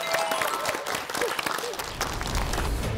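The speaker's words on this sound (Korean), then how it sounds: "박수!" Studio audience on a Korean health talk show clapping in welcome of a guest, with dense broadband applause mixed with some overlapping background voices and music.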